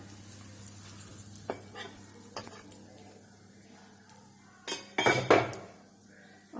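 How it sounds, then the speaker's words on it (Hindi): A spoonful of chili powder sizzling in hot oil in a pan for a Kashmiri aloo dum gravy, with a few spoon taps and stirring scrapes and a louder burst of sizzle and clatter near the end. "एक चम्मच मिर्चा तेल में इसलिए डाल देते हैं"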